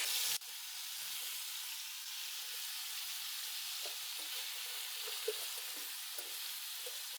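Tomatoes sizzle and fry with garlic in a karahi for a restaurant-style Peshawari Shinwari karahi, a steady close hiss of frying with a few soft stirring clinks and no talk.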